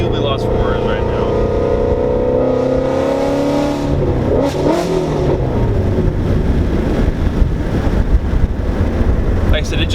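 A modified 510whp full-bolt-on Ford Mustang GT350 V8 accelerates hard, loud and close, its engine tone sweeping up through the gears over heavy wind rush, with a voice partly audible under the roar.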